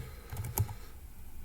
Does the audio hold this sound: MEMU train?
no